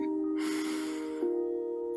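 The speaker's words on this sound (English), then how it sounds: "Breathing in, expanding our lungs even deeper all the way up through our backs." A slow, deep inhale through the nose during a guided meditation, soft breathy airflow swelling and then easing, heard over a steady sustained drone of background music.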